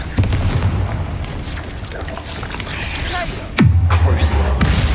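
A Confringo spell blast in the video game Hogwarts Legacy, a loud booming explosion at the start with a second heavy boom near the end, set against a rumbling background and some talk.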